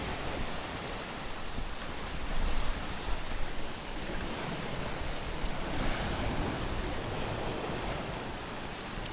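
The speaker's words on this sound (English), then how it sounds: "You can see there's some waves here," Roughly six-foot ocean waves rush and wash around a sailboat far offshore, a broad, steady hiss of surf and wind noise with slight swells in loudness and nobody speaking.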